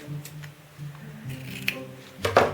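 Scissors cut through ribbon while a tulle and ribbon wreath is being made, giving a few close, crisp snips with a louder cluster of cuts near the end.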